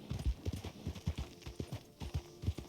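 A horse's hooves clip-clop at a steady walking rhythm in a western video game, close and distinct, with evenly spaced hoofbeats and no talking.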